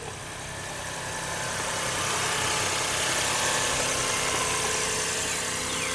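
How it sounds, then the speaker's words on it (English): A 2006 Toyota Highlander Hybrid engine runs at a steady idle, a continuous low hum and rumble with even vibration that swells slightly at the start and then holds at a constant level, with no one talking. "Yeah, motor runs just fine."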